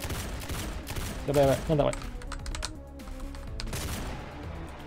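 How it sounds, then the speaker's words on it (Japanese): Gunfire in a Backrooms first-person shooter: a burst of rapid shots around the middle, heard under excited talking voices and a steady game soundtrack. "あれ、これなんか銃声聞こえるな。"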